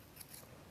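Scissors snip through wool yarn while making a pompom, giving a couple of quick, close, crisp cuts over a brief soft rub.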